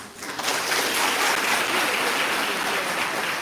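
Audience at a memorial lecture hall breaks into applause, a dense, steady wash of clapping that swells in within the first half-second and holds evenly to the end, with no voices over it.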